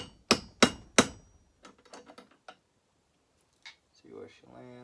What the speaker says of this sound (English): Take your hammer, start tapping.